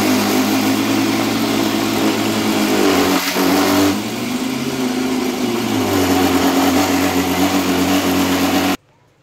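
An electric mixer grinder runs dry, grinding rice with salt and no water added, giving a loud, steady motor drone that dips briefly midway and then cuts off abruptly near the end.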